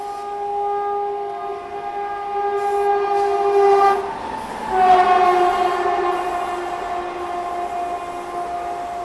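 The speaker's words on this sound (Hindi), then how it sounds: "बाकी यहाँ क्रॉसिंग हो रही किसी ट्रेन से, कोई ट्रेन यहाँ पे क्रॉस हो रही है।" Train passing at a railway crossing, a loud sustained horn blast that breaks off and sounds again, over the rumble of the passing rail cars, with no talk.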